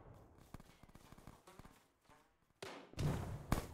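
Gunfire in a close firefight near shipping containers, a run of sharp single shots and short bursts, then louder heavy rapid fire toward the end.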